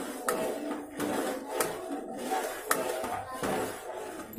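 Boiling milk for vermicelli is stirred in a pot over lowered heat, with a steady bubbling rumble and regular scraping strokes of a spoon against the pot every half second or so, close and moderately quiet, with no voices.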